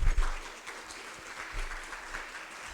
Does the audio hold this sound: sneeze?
no